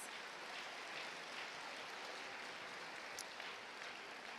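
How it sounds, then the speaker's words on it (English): A middle school band's audience gives a round of applause at a Christmas concert, soft and distant clapping that holds steady without talk. "let's give them one more round of applause"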